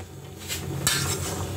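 Metal utensil scraping and clinking against a cooking pot of boiling salmon head with vegetables, a brief louder scrape midway, over a low simmering background.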